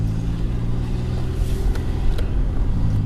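A 2005 GM car with a 4T65-E transmission drives on a wet street with a steady low engine rumble and constant road hiss, heard from close by with no talking.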